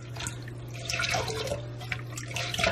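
Water runs from a tap in a steady splashing stream, close by, with no voices.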